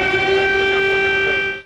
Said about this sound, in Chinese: 这波空袭还引发首都基辅空袭警报大作